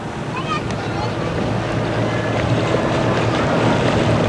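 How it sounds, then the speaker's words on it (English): Boat setting sail toward Catalina in strong wind: loud, steady wind rush buffets the microphone over washing water and hull noise throughout, with no break. "We're on our way. We're setting sail."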